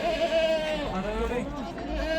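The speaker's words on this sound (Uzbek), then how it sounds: "Sutga boqiladi echki ekan." A goat kept for milk bleats at a busy livestock market in Namangan, its wavering cries rising over the steady hum of the crowd while people talk loudly nearby.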